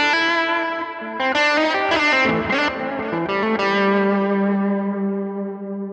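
Distorted electric guitar plays a short run of notes that ring out, thickened by delay and reverb, ending on a sustained fading chord.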